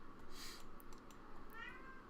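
A faint, drawn-out cat meow rises and falls in pitch against a quiet background hum.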